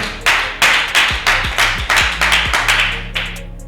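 Audience clapping during a TV interview: about ten evenly spaced claps in a steady rhythm, fairly close and clear, over a low hum, with no talking.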